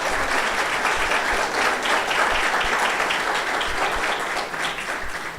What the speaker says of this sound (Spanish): Dale un aplauso al Rey, por favor.